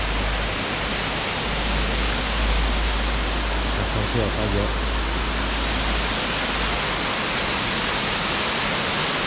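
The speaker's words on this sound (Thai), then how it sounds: "ความสวยงามของน้ำตกที่ไหลออกจากพื้นนะฮะไม่ได้มาจากคลองมาจากพื้น น้ำใสมาก" A constant, loud rushing roar comes from Shirahige waterfall in Biei, Hokkaido, where clear water flows out of the ground; someone speaks briefly over the steady noise.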